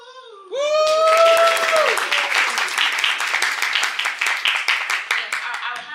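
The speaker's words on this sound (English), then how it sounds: "You can clap now." A crowd bursts into loud, dense applause at a hackathon opening ceremony, starting abruptly as a voice whoops and cheers, then holding as steady clapping with rhythmic clusters of claps.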